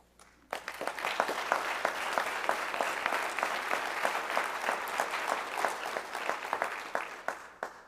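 Steady, fairly loud audience applause fills a hall at an ROTC commissioning ceremony for a new second lieutenant, with many hands clapping densely for several seconds before tapering off, no voices over it.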